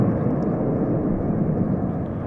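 A loud, continuous jet roar fills the air from F-15 and F-35 military aircraft at the Royal International Air Tattoo 2022 air show, steady and close with no voices.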